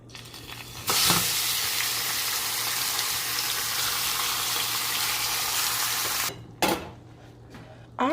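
Ground meat dropped into hot olive oil in a pan for chili, bursting into a loud sustained sizzle after a quiet start, then briefly cutting out with a few clanks of the pan before resuming.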